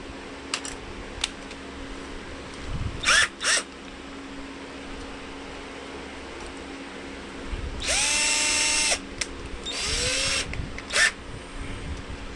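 A power drill runs in two short bursts while tapering a small wooden part for an HMS Bounty model ship. Each burst spins up and whines down. Softer clicks and handling noise fall in between.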